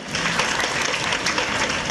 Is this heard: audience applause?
yes